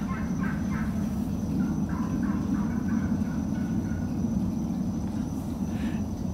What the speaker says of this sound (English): Can you hear the turkeys?